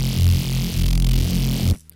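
A Reese bass synth patch run through a multiband compressor, a thick, loud, gritty low drone with a hissy upper layer, sustained for nearly two seconds before cutting off abruptly.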